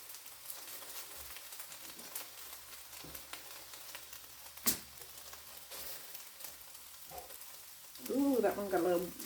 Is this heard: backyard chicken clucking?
no